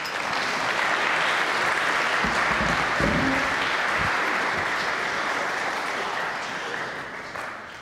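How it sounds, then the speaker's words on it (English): Congregation applause fills a church during a traditional worship service, a dense, even roar of many hands clapping at steady volume that tapers slightly toward the end, with a voice briefly audible beneath it. "Will you give a round of applause to Carl Gonder?"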